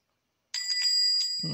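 A bright bell dings once in the Papa's Mocharia To Go cooking game. It rings loud and clear after silence, with a short ringing tail, and a low dull thump comes just after it.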